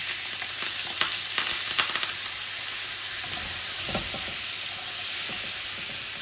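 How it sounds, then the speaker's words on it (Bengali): Close, steady sizzling and crackling of tilapia fish with salt and turmeric frying in hot oil, with occasional soft clinks and stirring sounds over the constant hiss. "লবণ হলুদ দিয়ে মাছগুলাকে ভেজে নিব"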